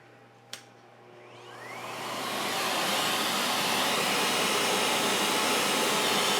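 An Oreck vacuum cleaner motor starts with a click, then spins up over about two seconds into a loud, steady broadband whine and roar that holds with no talking.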